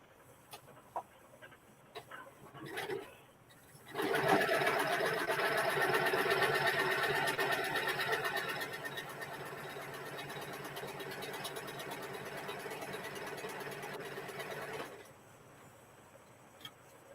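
A sewing machine stitches a fabric skirt for a lampshade, running in a fast, even rattle for about ten seconds after a few soft handling noises, then stopping abruptly; faint background sounds follow.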